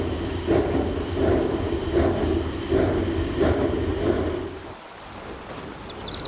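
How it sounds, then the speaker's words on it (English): Mocanita steam train in Viseul de Sus, Maramures, running since 1932, chuffing in a steady series of about six rhythmic puffs with a hissing, rumbling undertone, fairly close, then easing off and fading into quieter background. "Mocanita, it's a beautiful steam train functioning day by day since 1932 in Viseul de Sus Maramures."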